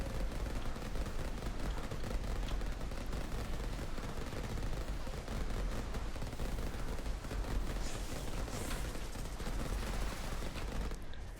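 A six-barrel gun in Soulstone Survivors fires non-stop, making a dense, unbroken rattle of rapid shots mixed with game effects, loud and constant from start to finish.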